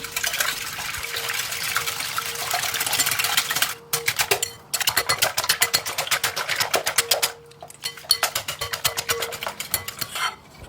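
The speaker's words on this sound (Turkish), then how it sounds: "4 adet yumurta, 1 tatlı kaşığı tuz ile çırpalım." Four eggs whisked with a teaspoon of salt in a bowl, fast rhythmic wet beating strokes close up, with brief pauses between bursts and no voices.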